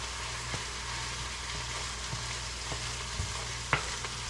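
Onions and ground beef frying in a pan, a steady close sizzle throughout with a few soft utensil taps and one sharper clink near the end, no talk.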